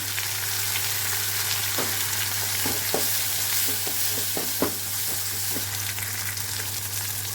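Asafoetida powder sizzles in hot oil while a sambar is being made, a steady close frying crackle with scattered sharp pops and stirring scrapes over a constant low hum, with no voices.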